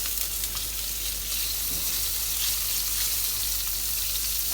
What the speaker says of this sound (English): I'm going to put the butter in the pan right now